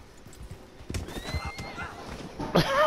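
A horse in the video game Red Dead Redemption 2 clip-clops along, with a few hoof beats followed by a sharp neigh toward the end, fairly close and moderately loud.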